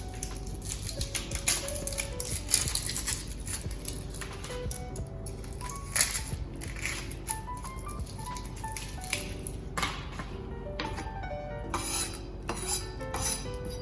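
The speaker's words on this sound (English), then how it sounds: "the way I like to cut onions is to start from the outside and cut towards the center in like slices like this" A knife slicing an onion on a cutting board, with a rapid run of close, crisp chopping taps and clicks, fairly loud, with no talking.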